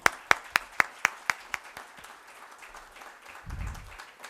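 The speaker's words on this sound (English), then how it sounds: "Let's welcome them with a huge round of applause." A handful of people clap to welcome guest speakers at a fireside chat, with about eight sharp claps at first that thin out and fade, ending in a low rumble.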